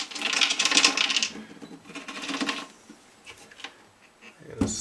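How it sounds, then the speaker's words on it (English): A loose lock washer rattling inside a hollowbody guitar as the instrument is shaken, making bursts of bright metallic jingling and clattering that taper off into a few scattered taps near the end. "That sounds to me like a washer. You hear that?"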